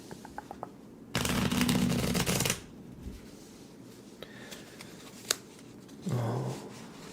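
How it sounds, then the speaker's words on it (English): A deck of cards is riffled once in a quick fluttering burst, followed by soft handling clicks and a brief second rustle, close up. "we're going to do a nice little riffle shuffle here"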